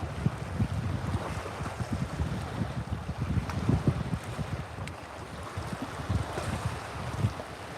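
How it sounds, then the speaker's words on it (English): Wind blows across a reservoir during fall fishing, producing a continuous rumbling buffet with gusty low-pitched roar and broadband hiss throughout, with no speech. "as windy as it is"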